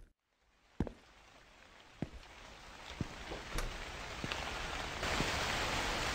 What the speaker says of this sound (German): Oh ja, es regnet.